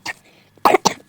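A woman coughs three times: one short cough, a pause, then two quick harsh coughs close together, close to the mic and alone.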